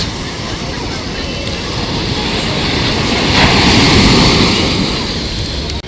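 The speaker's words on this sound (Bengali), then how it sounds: "এদিকে জল তো বিরাট উঠে আসছে বিরাট" Sea waves surge and roar at Puri beach in India, a loud continuous wash of surf rising to a peak and easing off, with wind buffeting throughout.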